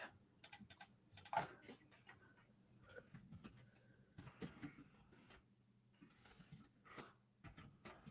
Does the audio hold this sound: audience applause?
no